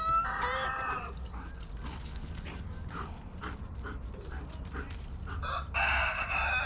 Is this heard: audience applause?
no